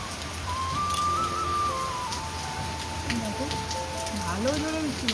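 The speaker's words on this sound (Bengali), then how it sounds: "ভালো জোরে বৃষ্টি হচ্ছে" Heavy rain pours steadily in a continuous broadband wash, with faint whistling tones and a voice murmuring softly beneath the downpour.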